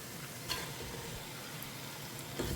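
Prawns going into a masala in a pan set off a quiet, steady sizzle and soft frying crackle, with a couple of faint stirring scrapes.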